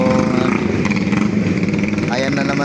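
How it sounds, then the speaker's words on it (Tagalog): A motorcycle rides into flood water on a flooded Manila street near Tutuban Center during Typhoon Carina, its engine droning steadily and close by under heavy rain, with people talking over it throughout. "Si Kuya yung kanyang motor inilusong na."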